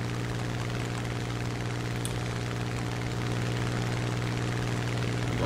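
A Spitfire F Mk.22 propeller fighter in War Thunder drones steadily with a loud, continuous piston-engine hum and propeller buzz, unbroken and even throughout.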